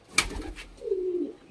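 A pigeon gives a single soft, low coo at close range, short and alone, following a brief rustle.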